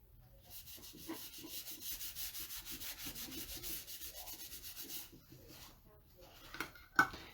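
Wax is rubbed into a wooden decor piece with a cloth in quick, steady back-and-forth strokes for several seconds. The rubbing then stops, followed by a few faint handling knocks and one sharper tap near the end.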